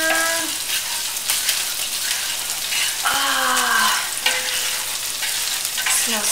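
Marinara sauce being stirred in a pan after balsamic vinegar is added, a steady scraping and bubbling swirl with soft sizzle throughout, close and continuous with no talking.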